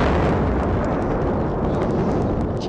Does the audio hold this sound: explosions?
yes